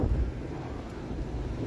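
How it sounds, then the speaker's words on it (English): Strong wind buffets the microphone on a snowy Toronto street on a cold evening, a low rumbling roar with a heavier gust at the start and steady blustering after. "It's getting windier the further south I go here."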